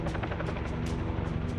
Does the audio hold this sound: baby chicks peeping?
no